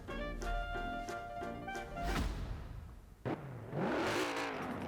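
A 4,000 cc V8 car engine in the video game Forza Horizon 4 fires up with a short rising rev, drops, then surges again in a strong climbing roar, loud and close.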